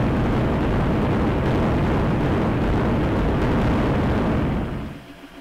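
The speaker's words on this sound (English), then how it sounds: "And the explosion again." A roaring explosion in the video game The Desolate Hope: a loud, dense broadband rumble that holds steady for several seconds, then dies away quickly near the end.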